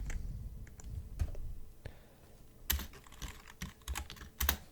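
Computer keyboard typing while coding in C++, quiet close-up key clicks in irregular bursts with short pauses between them.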